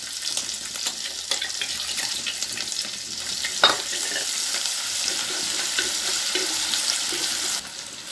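Crushed ginger and garlic fry in hot oil with a close, steady hiss and crackle, joined by the scrape of stirring and one sharp pop midway, continuing evenly with no talking.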